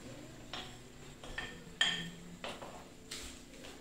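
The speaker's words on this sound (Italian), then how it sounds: "a questo punto aggiungiamo i funghi" Sliced champignon mushrooms tipped into a pan of risotto, heard as soft clinks and knocks of utensils against cookware, spaced out and fairly quiet, with no talking.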